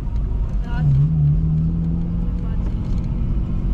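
A car drives in a wide circle, its engine a steady close drone with a brief rising whine, while people talk over it.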